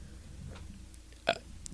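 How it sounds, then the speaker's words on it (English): A person burps after eating hot sauce, a single short faint burp in the middle of quiet room tone. "Sorry, I got to burp."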